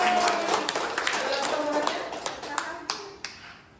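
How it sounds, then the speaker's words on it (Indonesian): An audience claps at a community religious harmony forum, a busy patter of hands that thins out toward the end with a few last sharp claps, with voices underneath. "Tepuk tangan sekali lagi untuk kita."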